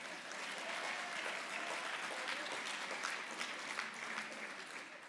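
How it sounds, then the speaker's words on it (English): An audience at an awards ceremony applauds in a steady, even wash of clapping that stays moderately faint and unbroken throughout, without speech on top. "Give me a round of applause."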